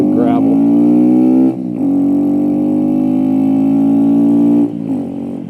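A customized Kawasaki Z125 motorcycle, lowered and stretched with different tires, hums along at a steady pace on a gravel-strewn road, its engine note close and even, with brief dips as the throttle eases, under a rider's talk.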